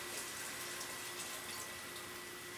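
Tap water pours into a measuring cup as a steady, soft, even rush that holds without pause throughout.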